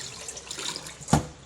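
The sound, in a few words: water poured over fish while washing it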